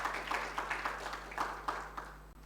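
A congregation applauds during a church service, a faint, distant patter of rhythmic clapping with a steady low hum beneath it.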